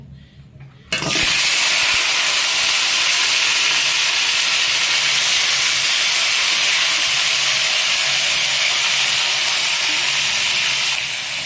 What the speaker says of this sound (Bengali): কড়াই তেল দিয়েছি তেলটা গরম হয়ে গেছে এবার কাঁকড়াগুলো দিলে দিয়ে দেবো